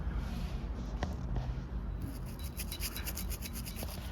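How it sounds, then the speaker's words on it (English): Rubbing down the slide block of a Glock 19 Gen3 pistol during cleaning, a steady close scraping and rasping of a cloth or brush working the small metal part, continuous with a brief sharper scrape near the middle. "Okay, slide block, same thing, just rub it down"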